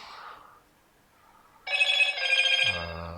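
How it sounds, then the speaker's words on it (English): A phone rings with a bright, trilling electronic bell that starts abruptly and continues steadily, fairly loud, after a brief stretch of quiet with faint voice at the start. "Bleeping phone."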